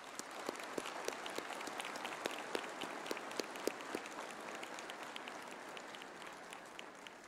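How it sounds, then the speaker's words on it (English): An audience applauds graduates at a university humanities graduation ceremony, a soft, distant, even patter of many hands clapping in a large hall that holds steady throughout. "I now request the audience to join me in applauding our graduates for their significant achievements"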